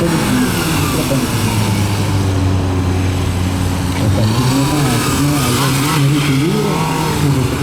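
A Suzuki GSF400 motorcycle revs through a gymkhana run at the MGKC 2024 competition, its loud, close engine note rising and falling continuously as the throttle opens and closes through tight turns.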